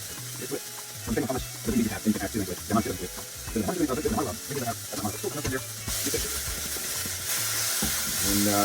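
Onions, peppers and tomatoes frying in oil while being stirred in a pan, a continuous sizzling hiss with scraping stir strokes, partly under a speaking voice and growing brighter toward the end.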